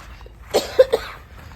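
A few sharp coughs, about three bursts in quick succession, from a person outdoors on farmland in cool wind, fairly close and alone without talk.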